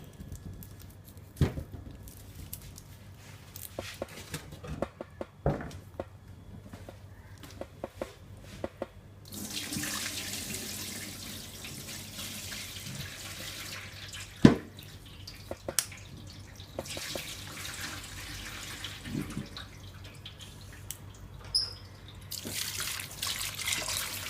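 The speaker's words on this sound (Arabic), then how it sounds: "هسه راح نغسل اللحم" Meat is washed under running tap water in a kitchen sink, a faint trickle with scattered drips and wet handling splashes, rising into a fuller gush of flowing water partway through.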